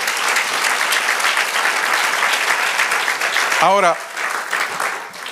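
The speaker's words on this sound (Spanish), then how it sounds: "Sí, aplaudámosle al Señor por eso." A church congregation at a Spanish-language service applauds loudly and steadily in a hall, then a brief electronic chirp cuts in and the clapping fades while a voice speaks over it.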